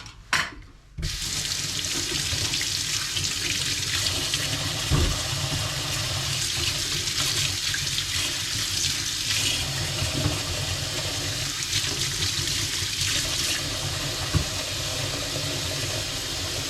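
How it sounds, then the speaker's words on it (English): Tap water pours steadily into a kitchen sink as carrots and greens are washed, a continuous close rushing hiss that starts after a brief clatter and runs unbroken to the end. "just gotta get these carrots ready, wash the greens"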